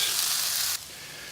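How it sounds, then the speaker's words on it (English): Onions and spices fry in a pan with a close, steady sizzle that drops abruptly to a quieter hiss partway through. "So those onions have been frying off now for about 2 minutes."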